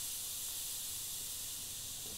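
An airbrush sprays a lightened skin-tone paint while highlighting a model's detail work, a steady, close, airy hiss that runs unbroken throughout with no talk.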